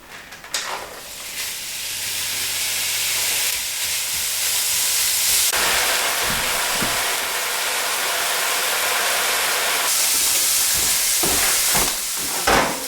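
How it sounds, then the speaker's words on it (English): Minced steak browning in a little oil in a pan, a steady loud hiss and sizzle running almost the whole time with a few brief clatters near the end. "I'm going to brown this mince, get it cooked, get all the fat sort of out of it"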